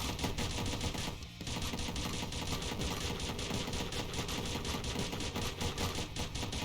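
Weapon fire in the video game Dungreed, a dense, relentless machine-gun stream of rapid shots that continues for several seconds with only a brief dip, loud and close with no talking.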